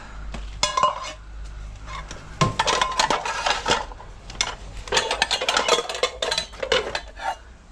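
Metal frying pans clatter and scrape as they are handled and stacked, with bursts of clanking and ringing bangs, close and fairly loud.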